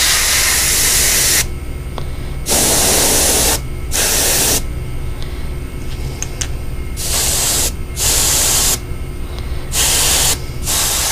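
Spray gun spraying yellow paint onto a fishing lure, several short bursts of loud hissing separated by brief pauses, close up and with no voices.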